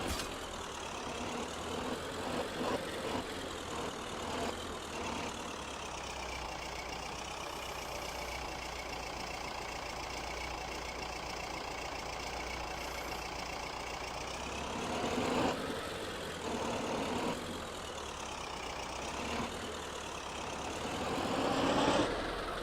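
A tractor engine idles and runs steadily in a wilderness survival video game, a continuous low mechanical rumble that swells slightly louder near the end, with no talking.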